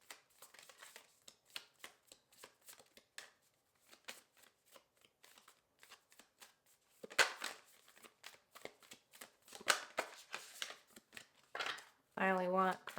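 A deck of tarot cards is shuffled by hand, crisp riffling bursts and soft slaps close by. A short louder flurry comes near the end, and a voice speaks briefly over it.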